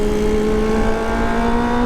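Kawasaki ZX25R four-cylinder motorcycle engine held at a steady high-pitched rev during a downshift, loud and close, a continuous smooth whine with no speech.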